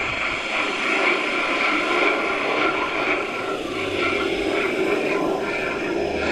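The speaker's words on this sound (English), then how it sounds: "This Joss Gripen jet was flying really slow when another jet almost hit it." A Gripen jet flying slowly with another jet passing close in a near-miss, heard as a steady, fairly loud engine roar with a fluttering broadband texture and no clear voices.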